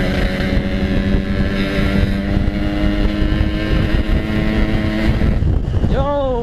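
Yamaha RX King two-stroke motorcycle revving hard and accelerating from a green light, a loud sustained buzzing engine note close to the mic that climbs sharply in pitch at the end, with wind noise.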